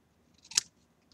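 A single crisp snip of scissors cutting through a small paper tag, close and brief in an otherwise quiet room.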